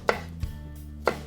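Knife chopping tomato chunks on a cutting board while making raw vegan zucchini pasta: three crisp, close chops spaced about half a second apart, with faint kitchen room tone between them.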